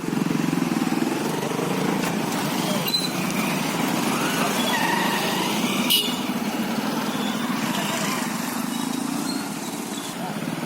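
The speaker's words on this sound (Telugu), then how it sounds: "స్కూటర్ ర్యాలీ నిర్వహించారు" A scooter rally rolls through Atmakur town in a protest against GST, giving a steady, dense drone of many small engines that holds throughout, with voices mixed into the din.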